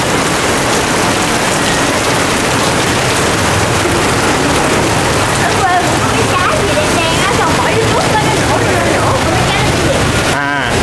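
Steady heavy rain with wind roars loudly and continuously, a dense wash of noise with faint voices underneath.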